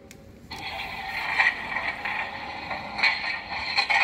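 Repeated scraping and grating of a shovel against coal for a steam locomotive firebox, a steady rough rasp with a few sharper scrapes, close and moderately loud.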